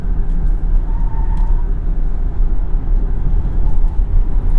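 A 2021 Tesla Model Y, a rear-wheel-drive electric car, takes a corner fast. The sound is a steady, loud road and tire roar from inside the cabin, continuous throughout with no voices.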